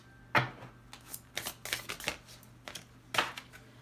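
Tarot cards are shuffled in quick riffles and soft slaps, arriving in several short bursts separated by brief pauses, close and fairly quiet.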